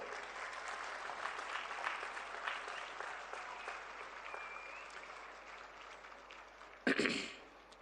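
An audience claps together at a political speech event, a sustained, fairly distant round of applause that fades out near the end, followed by a brief louder clatter.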